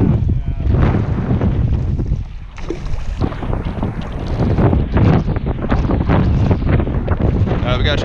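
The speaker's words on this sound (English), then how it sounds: "The wind is very bad here, folks." Strong wind buffets the microphone on a fishing boat out on Florida water, a loud continuous roar and rumble with gusting surges, with a voice faintly under it.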